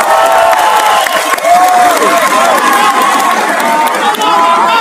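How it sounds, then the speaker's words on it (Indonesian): A large, loud crowd at a political rally in Indonesia marking 25 years of reformasi breaks into clapping, with cheers, whoops and shouted voices rising over the applause. "Tepuk tangan untuk para pejuang reformasi kita."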